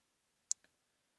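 A computer mouse gives a quick double click, two faint, sharp ticks in quiet surroundings.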